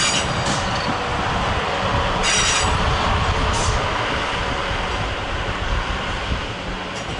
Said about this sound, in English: I think that's a Gatwick Express train coming in there in the background.